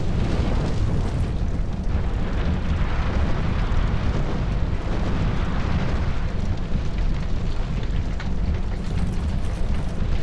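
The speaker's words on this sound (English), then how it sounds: "Just set fire to the windmill" A windmill set alight in Dark Souls 2 roars and crackles as a dense, constant blaze. The loud burning rumble holds evenly throughout, with no voices.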